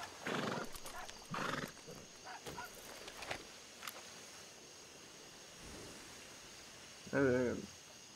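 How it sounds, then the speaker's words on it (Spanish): Horse in the RedM western game snorting and neighing in short bursts, with a whinny near the end and scattered light hoof thuds, close and separate against quiet background. "He visto un caballo dorado ahí, voy a acercarme."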